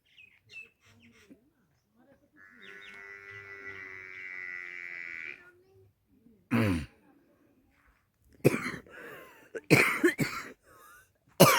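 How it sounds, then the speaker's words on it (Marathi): Several harsh coughs from a person on a rural village path during a Narmada foot pilgrimage, coming as loud separate bursts in the second half after a quieter stretch with a brief tonal call. "खोकला भरपूर लागलेला आहे इथं"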